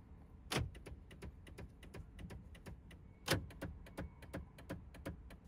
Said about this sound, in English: I wonder if the door locks work.